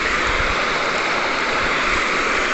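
A river stream in the Philippines flows in a steady, loud, close rush of water, unbroken and without voices.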